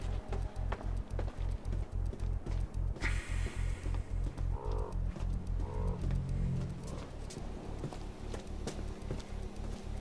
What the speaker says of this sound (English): I heard a raven.